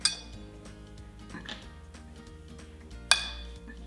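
A spoon stirs water and glitter in a bowl, clinking and scraping against the sides with a sharp knock at the start and another near the end, close and alone.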